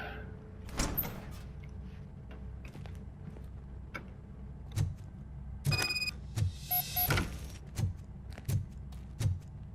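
Door opening in the video game Robocop: Rogue City, heard as scattered mechanical clicks, ticks and a sliding, whirring motion with a few sharp knocks, moderately loud against a quiet game ambience.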